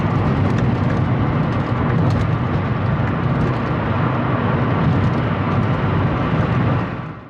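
A Honda Fit on a test drive, heard from inside as a steady, loud broadband road and engine rumble that holds constant for most of the stretch before trailing off near the end.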